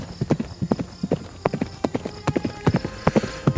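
A horse's hooves clip-clop steadily at a brisk walking rhythm, many sharp close hoof strikes in a loud sound effect for a fantasy riding scene, with no voices.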